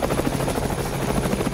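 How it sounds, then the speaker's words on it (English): A loud helicopter in the survival game Nomad Survival gives a steady, rapid rotor chop that fills the whole short stretch without a break. "that darn helicopter is so loud"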